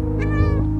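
A cat meows in the video game Stray, one clear, loud, close meow with a rising-then-falling tone over steady low game background sound.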